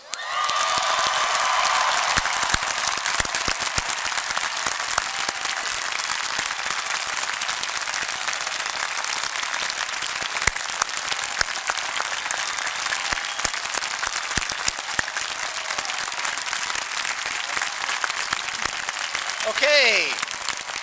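Sustained applause from a large university commencement audience at Wesleyan, dense steady clapping filling the whole stretch with crowd noise, and a brief voice rising near the end.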